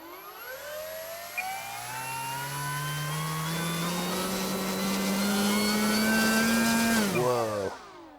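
An electric motor on a Hobby King Durafly Tundra V3 RC plane running on 4S power whines upward as the throttle rises, holds a loud steady buzzing pitch for several seconds, then spools down quickly. No one speaks.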